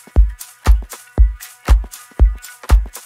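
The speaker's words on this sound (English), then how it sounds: "And our drums in total sound like this." Electronic drum loop, with a booming kick about twice a second, a bright metallic tin-like hi-hat and snappy hits between, looping steadily and close with no voices.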